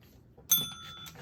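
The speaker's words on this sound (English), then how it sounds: "Nice, ring your bell." A pug rings a small bell, giving one bright metallic ding that rings on for about half a second against a quiet indoor background.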